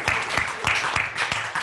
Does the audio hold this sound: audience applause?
yes